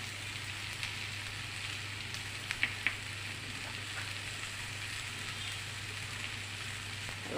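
Turmeric fries in a pan of oil for idli chaat, a soft, even, continuous sizzle heard fairly close, with a few tiny pops and crackles partway through and no voices.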